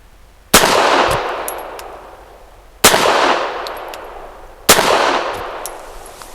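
A Walther PD380 pistol fires PPU 94-grain FMJ rounds: three loud, sharp shots spaced about two seconds apart, each followed by a ringing decay, with no talking.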